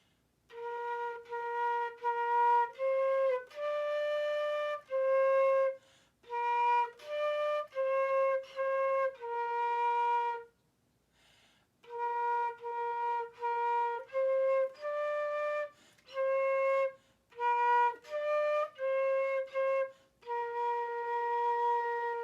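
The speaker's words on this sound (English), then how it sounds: "I love the flute. It's a beautiful sounding instrument." A flute plays the simple, slow melody of "Au clair de la lune" in clear sustained notes, pausing briefly midway before continuing, solo and fairly soft.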